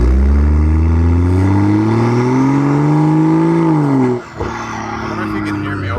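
A BMW M340i with the B58 engine accelerates hard from a stop, its exhaust note climbing steadily through the gears up close, then dipping briefly at a shift before settling into a steady drone; a voice talks over it.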